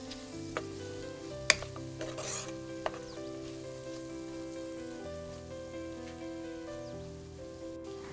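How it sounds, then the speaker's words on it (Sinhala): Chopped onion, salt and green chilies frying in a pan for chicken curry, a soft, steady sizzle with a few sharp ticks and clinks of stirring, heard close with no voices. "දැන් මේක රන්වන් පාට වෙනකම් හොඳට බැද ගන්න."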